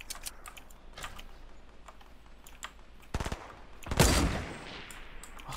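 Gunfire in a Fortnite squads match: a quick close burst of several shots followed by a louder blast, over quiet background and scattered keyboard-like clicks.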